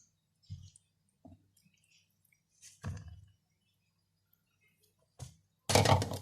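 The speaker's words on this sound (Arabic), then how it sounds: "هحط بقى عليها الخليط اللي احنا قلنا عليه ده" A filling mixture is spread over a phyllo pizza, making a few soft, close squishes and light taps separated by quiet pauses, then a louder, wetter burst at the end.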